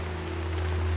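A heavy downpour in a Chinese martial-arts drama scene, a brief dense wash of steady rain with a low underlying hum.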